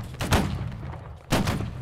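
A musket volley from a Civil War infantry line in a video game goes off as two heavy, booming bursts about a second apart, each a broad crackling blast that then fades.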